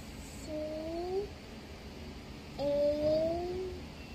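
A cat meows twice, each call a drawn-out rising and falling cry, the second louder and longer, over a quiet indoor background.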